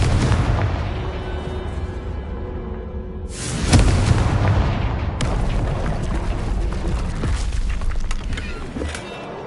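A Confringo blast spell exploding in Hogwarts Legacy, a loud booming crack that sharply cuts off the preceding rumble and then rolls into a long, dense roar that slowly fades.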